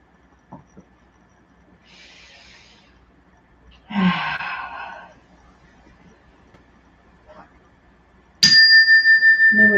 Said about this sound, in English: Oh, big yawn.